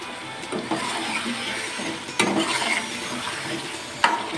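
Chicken pieces, potato and spices stir-frying in a pan for an aloo chicken curry, a soft steady sizzle with scraping stirs and a couple of sharp utensil knocks against the pan.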